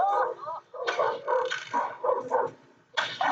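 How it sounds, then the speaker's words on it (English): A dog in the Ed, Edd n Eddy video game attacks the player, with a run of loud, close barks and snarling yips in quick bursts separated by short pauses. "the dog came and it's trying to bite me"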